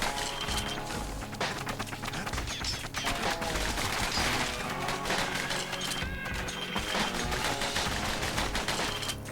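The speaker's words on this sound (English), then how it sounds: "Shots going everywhere." Dense, continuous gunfire and impacts from the video game Bastion, close and loud, with shots crackling without pause over a busy game soundtrack.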